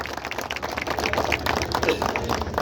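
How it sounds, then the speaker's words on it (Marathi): A crowd at a local competition event in Devgaon, Sangamner, claps for the youth organisers, steady dense applause throughout with voices mixed in. "या ठिकाणी सर्वांनी त्यांच्यासाठी जोरदार टाळ्या वाजवायच्या आहेत"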